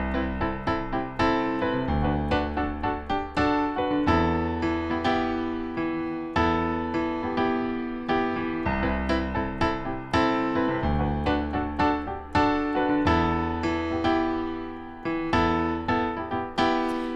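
Piano playing a song up to tempo with a rhythmic feel, chords and a melody on top, steady and fairly close, no talking.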